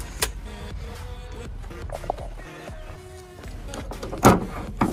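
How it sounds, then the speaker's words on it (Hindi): Air conditioning blower of a car for sale at a used car dealership, running as a steady broadband whoosh filling the cabin, with a few faint clicks and knocks over it. "ब्लोवर चल रहे हैं देख लो, आवाज़ आ रही होगी मेरे पीछे टोटल की टोटल।"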